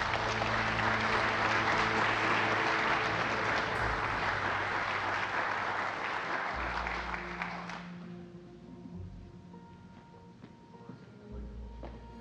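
An audience at an agency honor awards ceremony applauds a distinguished service medal honoree, with dense, loud clapping for several seconds that fades into quieter room sound and low hum.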